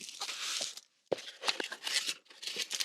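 The cardboard and plastic packaging of an Aula F75 Max keyboard is handled up close, with crinkling, tearing and rustling in uneven bursts and one short pause.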